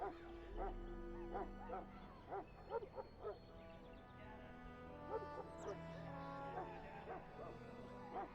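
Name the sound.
Mabari war hound barking in video game Dragon Age: Origins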